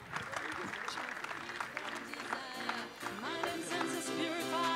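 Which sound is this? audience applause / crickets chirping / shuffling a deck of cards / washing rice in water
audience applause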